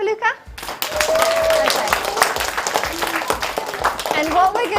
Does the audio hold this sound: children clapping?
yes